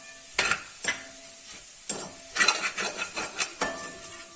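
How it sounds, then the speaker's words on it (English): A spoon stirs pepper and chili flakes in a pan over high flame, sharp scraping strokes and clinks recurring at uneven intervals over a low sizzle. "Give it a nice mix on a higher flame"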